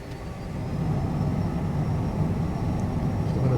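A Citation CJ4 business jet taking off in Microsoft Flight Simulator, its engines swelling into a steady loud whine and rumble, close and continuous as the throttle comes up on the runway.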